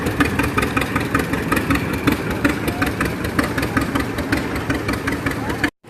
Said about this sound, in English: It's not a parade without tractors.